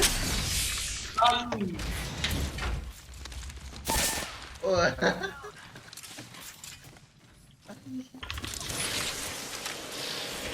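Bursts of rapid video game gunfire, some shots hitting a wall, come in several loud volleys with mechanical clicks and footsteps between them, while players talk excitedly over the action.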